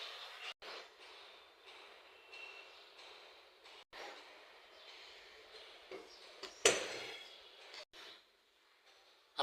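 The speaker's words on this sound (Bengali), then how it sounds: "আপনারা তো দেখলেন তেলের ট্যাঙ্কি কিভাবে খুলছি, কিভাবে লাগাইছি" A car's fuel tank cap is opened and shut, giving several sharp clicks and knocks spaced out over quiet background hiss, one much louder snap near the end.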